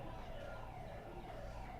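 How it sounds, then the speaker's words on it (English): A siren wails faintly in the distance during a livestreamed cricket match, a steady rising and falling tone under a broad wash of background noise. "I do apologize if you hear any sirens in the backgrounds in our stream."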